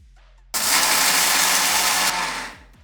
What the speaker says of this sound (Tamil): இதை நம்ம மிக்ஸி ஜாரில் அரைச்சி எடுத்துக்கலாம்.